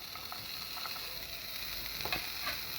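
Snake gourd is tipped into a simmering coconut mixture in a pan and stirred, giving a steady close sizzle with scattered soft scraping and clicking stirs, no voices.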